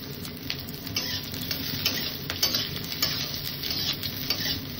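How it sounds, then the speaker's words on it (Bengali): Chopped onions frying in a little tempering oil while being stirred in the pan, a continuous close sizzle with soft scraping and patter throughout, heard alone. "এবার আমি এর মধ্যে দিয়ে দেবো কাটা পেঁয়াজগুলো। অল্প কিছুক্ষণ নাড়ার পর"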